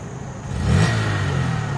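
A motorcycle engine rises from idle into a short rev as a child pulls back the throttle, the pitch climbing then holding at a steady, moderately loud hum, with no voices.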